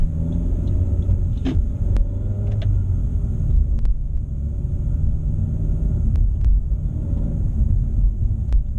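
A 2017 Honda Civic hatchback engine idles with a steady low rumble close by in a suburb, a few faint clicks and ticks rising over the continuous drone.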